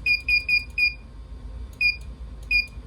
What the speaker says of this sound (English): There's the system beep.